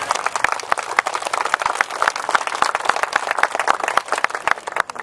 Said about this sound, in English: Let's give them a nice round of applause and for their dedication.